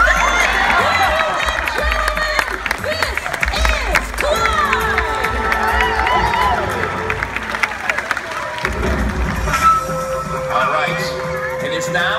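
A crowd cheering and shouting at a SeaWorld sea lion show, loud and continuous with children's voices and scattered clapping mixed in, music and talk running underneath.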